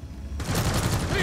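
Sustained rapid gunfire in Deep Rock Galactic starts abruptly after a short quiet lead-in, then keeps up as a dense, loud burst of overlapping shots to the end.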